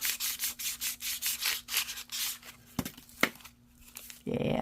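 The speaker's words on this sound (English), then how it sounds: "I'm going to do slight bit sanding here to kind of get that sticking into that paper too." Handheld sander working washi tape down onto paper: a rhythmic series of rough rubbing strokes close to the microphone, with a faint steady hum beneath, ending with a brief louder rustle.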